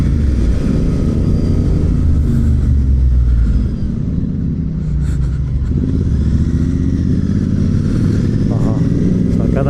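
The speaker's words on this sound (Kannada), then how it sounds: "ಸ್ಟಾಕಲ್ಲೂ ಮಸ್ತಾಗೈತೆ ಓಡ್ಸೋಕೆ ಗಾಡಿ." A motorcycle ridden along a road on the way to Mandaragiri Hills, its engine droning loud and close with steady rumble and gentle rises in revs, wind noise throughout and no clear talk over it.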